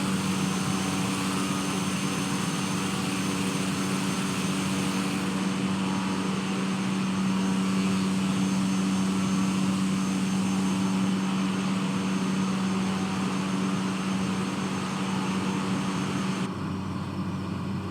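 Light aircraft piston engine drones steadily at reduced throttle on descent from PAML toward PANC, a loud, constant cockpit hum with a slight shift in tone partway through and no talk.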